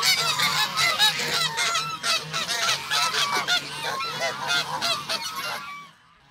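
A flock of geese honking loudly and continuously on a farm, many overlapping calls close by, fading out abruptly near the end.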